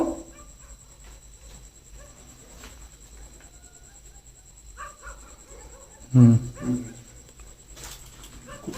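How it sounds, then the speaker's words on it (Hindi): Dogs bark in the distance, a couple of louder yelps standing out over steady insect chirring and low outdoor background noise. "अच्छा कुत्ते की आवाजें भी आ रही हैं"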